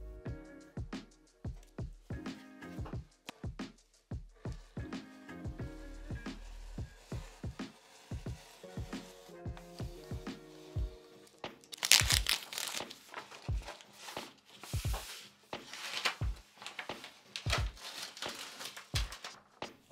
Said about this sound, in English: when cutting around corners, I do multiple passes